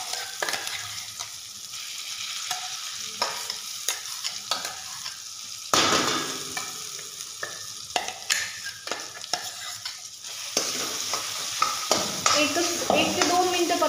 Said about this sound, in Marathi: आता आपलं जे वाटण आहे वाटलेलं ते व्यवस्थित टाकून घ्यायचं, याच्यात परतायचं व्यवस्थित।